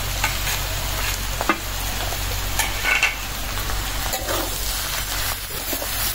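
Bitter gourd and shrimp fry in a pan with a constant, close sizzling hiss, broken by occasional stirring scrapes and sharp pops, with no voices.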